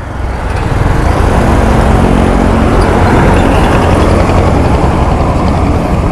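Road traffic noise heard while riding a motorcycle in traffic, a loud continuous rumble of engines and wind buffeting that stays steady throughout, with no talk.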